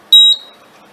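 A single short, sharp electronic startup beep from a quilting machine controller, high-pitched and clear, cutting off quickly in an otherwise quiet setting.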